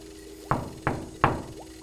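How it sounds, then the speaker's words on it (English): Three firm knocks on a door land in an even rhythm, each sharp and close, with quiet room tone between them and no talking. "Jared, I don't hear you unless you knock."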